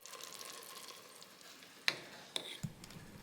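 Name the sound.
chopped onions cooking in butter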